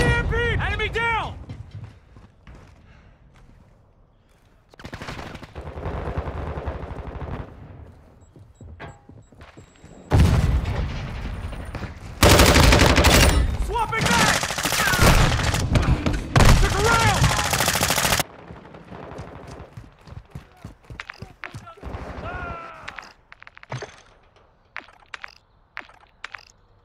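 Game gunfire from Call of Duty: Modern Warfare II during team deathmatch, with bursts of automatic fire and sharp shots in loud clusters, heaviest midway, alongside thuds and short game voice callouts.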